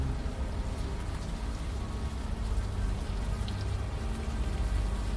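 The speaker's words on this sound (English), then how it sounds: "the warm rain is coming down" Warm rain falls steadily in the adventure game Unavowed, a dense even hiss of drops on surfaces, constant and fairly loud with no voices.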